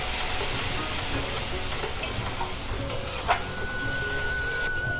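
Mushrooms sautéing in a pan with red chilli, coriander, cumin and meat masala powders give a steady close sizzle and hiss, with occasional soft scrapes of stirring and no talk.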